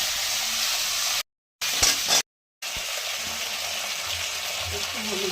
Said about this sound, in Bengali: এবার সিমগুলো ভেজে নেবো।